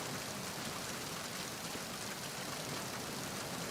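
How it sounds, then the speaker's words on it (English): Steady rain falling in Metal Gear Solid 2's tanker mission, a dense, even hiss of drops on surfaces with no breaks, heard alone at a soft, constant level. "because it's been raining, even though Olga just said that it had stopped raining"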